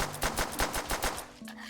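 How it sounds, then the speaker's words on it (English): An M1911 pistol fires repeatedly in Black Ops 3 Zombies with World at War weapons, a quick rhythmic run of about eight close, punchy shots followed by a brief mechanical tail. "The classic 1911 sound effects."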